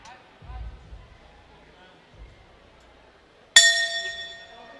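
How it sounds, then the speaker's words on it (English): A boxing bell rings once to close a round in a WBC Asia Silver Middleweight fight, a sharp bright ding that rings on and decays after a stretch of quiet crowd murmur and thuds. "that is the bell for round number 8"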